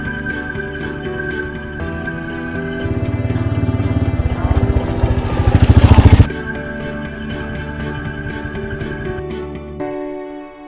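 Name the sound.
motorcycle engine while riding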